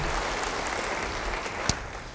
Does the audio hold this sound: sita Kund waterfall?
no